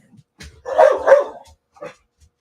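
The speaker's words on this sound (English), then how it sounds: "We don't know what she's barking at." A dog barks indoors, sounding a few short, loud barks close by, with a quick double bark in the middle.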